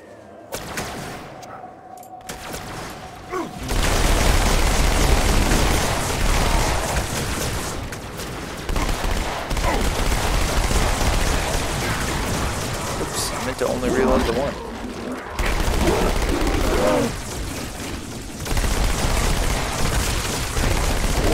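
Halo 2 gunfire rattles loud and sustained in bursts through most of the stretch, booms and shots layered over game noise after a quieter opening, with someone talking over the action.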